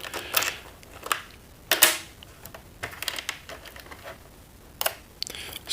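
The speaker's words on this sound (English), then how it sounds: "So I'm going to drop all these in the number 3 bin." Loose machine-thread screws and a nail dropped by hand into a bin, giving a series of sharp, close metallic clatters in separate bursts with quiet gaps between them.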